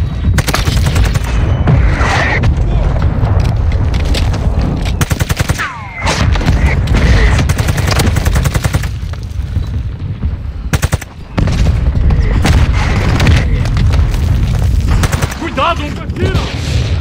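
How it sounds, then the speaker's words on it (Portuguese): Enemy mortar strike in the Call of Duty Warzone 2.0 game, with dense bursts of loud gunfire and booming explosions nearly continuous, broken by two brief lulls, while voices speak over the battle. "Ataque de morteiro inimigo perto de você."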